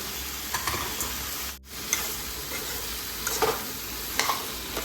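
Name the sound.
vegetables frying with spices in a pan on low flame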